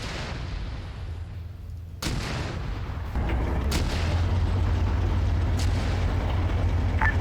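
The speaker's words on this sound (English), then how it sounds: "artillery coming in" Artillery shells landing in the Arma 3 military video game, several heavy booms and blasts spaced a second or so apart over a continuous low rumble, fairly distant.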